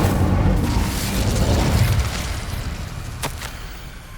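An Incendio fire spell going off in Hogwarts Legacy, a loud rumbling blast that holds for about two seconds and then slowly fades, followed by a couple of sharp crackling snaps.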